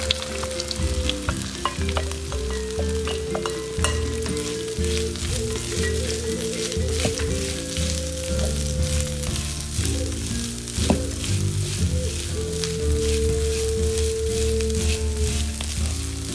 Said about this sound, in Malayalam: തേങ്ങ വല്ലാണ്ട് വറക്കണമെന്നൊന്നുമില്ല. ഒരു 1-2 മിനിറ്റ് വറുത്താൽ മാത്രം മതി.